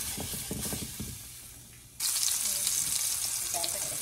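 Hot dogs sizzle and fry in olive oil in a pan, a steady loud crackling hiss that jumps up sharply halfway through, with quieter kitchen clatter before it.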